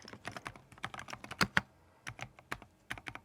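Keys clacking on a Keychron V6 Max mechanical keyboard in an uneven run of close, crisp strokes, with a couple of louder, heavier presses in the middle that fit the shift or backspace keys.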